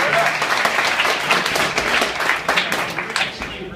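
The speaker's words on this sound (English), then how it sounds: "I will give a big round of applause to Fletcher and Jamie and all the other peop" A crowd at a startup anniversary gathering gives a sustained round of dense applause, steady and fairly loud for the whole stretch.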